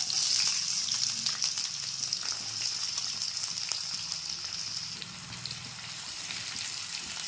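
Thinly sliced onions with green chillies, cumin and mustard seeds frying in oil in a pan, a steady bright sizzle that holds close and constant throughout with faint crackles and no talking.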